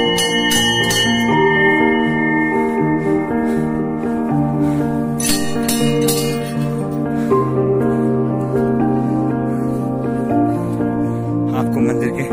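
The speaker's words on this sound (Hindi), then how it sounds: "घंटी जरूर बजे" A metal temple bell at Hariyali Devi in Pauri district rings repeatedly with long overlapping metallic tones that sustain and blend, struck several times in a steady, resonant ring.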